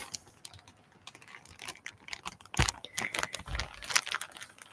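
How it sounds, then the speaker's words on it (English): Close ASMR crinkling comes as irregular, crisp bursts of crackling and rustling, with a few louder sharp crunches, played quietly and with no voice. "Little palette cleansing crinkles."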